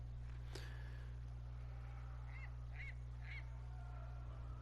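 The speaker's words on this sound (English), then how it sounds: "Oh, look, what a pretty bird." A bird in Dragon Age: Inquisition, set in the Arbor Wilds, calling with a few short honking notes in quick succession over a steady low hum and ambient backdrop, faint and moderately distant.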